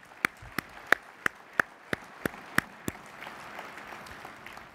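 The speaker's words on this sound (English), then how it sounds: "I want to give another round of applause for all those that were recognized today" A handful of single hand claps ring out at a steady, evenly spaced rhythm at a luncheon keynote audience, fairly faint and roomy, before trailing off into a soft, low murmur of scattered clapping.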